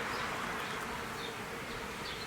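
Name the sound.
honey bees buzzing on a hive frame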